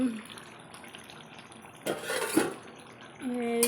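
A pot lid is lifted off chicken cooking on the stove, a brief metallic clatter partway through amid quiet kitchen sounds, followed by a soft rising hiss.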